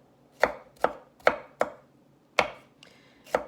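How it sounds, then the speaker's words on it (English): Knife chopping bell peppers on a cutting board, six crisp separate strikes at an uneven, unhurried pace, close and clear with no talking. "So I'm just going to continue chopping,"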